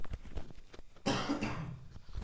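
Several harsh coughs burst out close and loud from a person with a persistent cough, rising suddenly and trailing off over about a second, after a stretch of quiet room noise.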